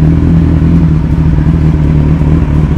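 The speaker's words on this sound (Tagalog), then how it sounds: "Yan po ang exhaust ni N1" Kawasaki Ninja 1000 SX with a twin-outlet exhaust, running close and loud with a steady deep engine drone and a rough, throbbing low tone throughout and no talking.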